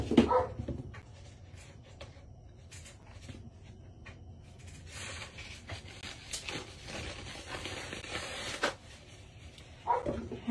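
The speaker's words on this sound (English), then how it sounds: "My dog all stirred up." An agitated dog at home whimpers and bursts into short yelps at the start and end, with restless shuffling, scratching movement and household noise in between.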